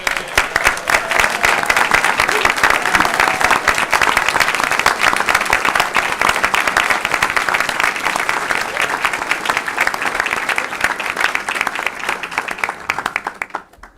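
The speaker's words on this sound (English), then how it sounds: "if we can give them a round of applause" Sustained applause for parents standing at a school board meeting, a dense, steady roomful of clapping that holds strong for the whole stretch before thinning at the very end.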